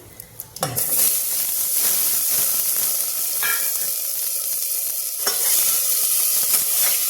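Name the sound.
potatoes frying in hot oil with spices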